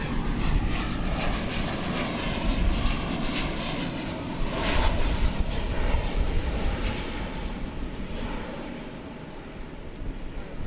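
A Boeing 737-800 airliner arriving on flight 1215 from Puerto Vallarta, Mexico, roars steadily at DFW Airport, a loud broadband jet rumble with wind buffeting the microphone, no voices over it.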